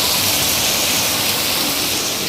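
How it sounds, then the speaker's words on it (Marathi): Heavy rain pours down in a dense, loud, unbroken hiss and roar that stays level throughout, with no voices. "तिकडे बघा पाऊस बघा, जोरदार पाऊस चालू आहे"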